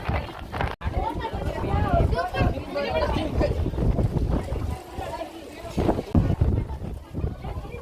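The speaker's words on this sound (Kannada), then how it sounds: "ಗಾಳಿ ಅಂದರೆ ಗಾಳಿ, ಫೋನೇ ಅಲ್ಲಾಡ್ತಾ ಇದೆ ಕೈಯಿಂದ" A person talks while strong wind buffets the microphone, adding a rough, rumbling roar that rises and falls under the voice.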